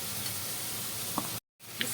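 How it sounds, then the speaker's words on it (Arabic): Chicken livers sizzle and crackle in a hot frying pan, a close, steady hiss with scattered pops that cuts out briefly near the end before resuming. "الكبده بتاعتنا خلاص عماله تطرقع عايزه تطلع"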